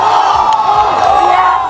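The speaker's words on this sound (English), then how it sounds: "people jumping up and down and cheering" A crowd cheers and shouts loudly for a Rubik's cube solving world record, a steady, dense roar of many voices with whoops throughout.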